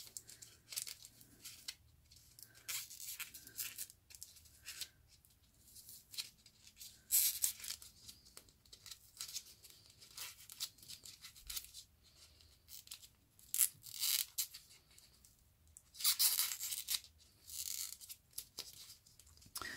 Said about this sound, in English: you want, if anything, your piece of fabric to be a little bit too big, because you can always trim it down for a better fit